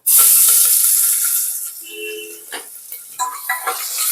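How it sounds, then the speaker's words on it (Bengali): Crushed garlic dropped into spice masala frying for a Punjabi-style mutton curry gives a loud, close sizzle that bursts out at once, then fades into softer hissing with a few stirring clinks and scrapes. "এবার এর মধ্যে যে রসুনটা থেতো করে রেখেছিলাম সেই রসুনটাকে দিয়ে দেব।"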